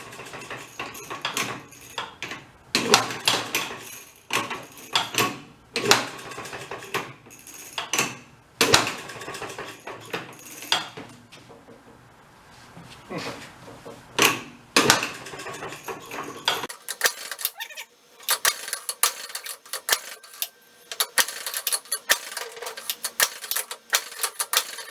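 A Maytag 92 hit and miss engine running nearby, giving sharp irregular firing pops and clattering mechanical knocks with uneven gaps, loud and without talk.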